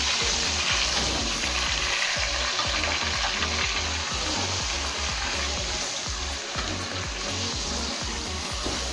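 Chicken frying hard in a pot for biryani, a dense continuous sizzle with rhythmic stirring scrapes, close and loud throughout with no voices.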